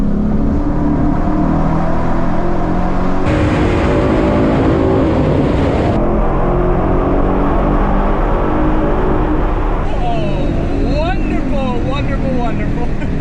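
A Ford Mustang GT S550 V8 roars loudly as it revs through a tunnel, the engine note rising and shifting in stages with echoing reverberation and a whining sweep near the end, continuous and close.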